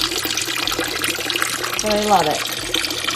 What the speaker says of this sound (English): we have this frog that spits out water